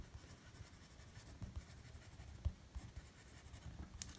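A Fountain Pen Revolution fountain pen with a standard medium nib writes on paper, giving a soft, close, continuous scratchy glide with small tapping strokes, quiet and without talk.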